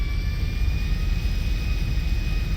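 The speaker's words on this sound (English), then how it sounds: "so that's this plane" A passenger airplane's jet engines in the GTA Five video game, with a steady, loud, continuous drone and whine that holds evenly throughout, without any talk.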